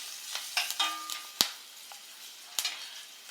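Spices with turmeric being sautéed in a pan for mango rice, soft sizzling broken by several sharp scraping and tapping stirs and a short ringing clink, close and otherwise quiet.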